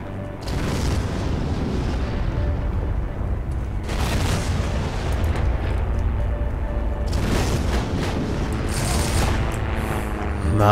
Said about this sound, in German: Und deren Panzer schießen hier rein.